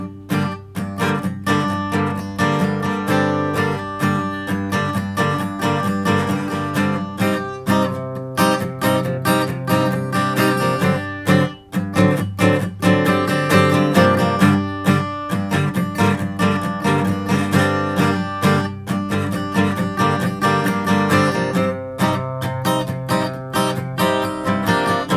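Acoustic guitar chords of a song strummed with a capo in an easy, simple pattern, loud, steady and continuous with no voice.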